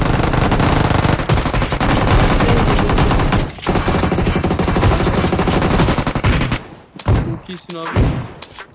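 Rapid automatic gunfire from the PUBG Mobile battle royale game rattles loudly and almost continuously for several seconds, then breaks into a few scattered shots as players talk excitedly over it.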